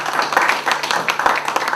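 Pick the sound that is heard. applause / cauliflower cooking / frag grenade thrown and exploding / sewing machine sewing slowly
applause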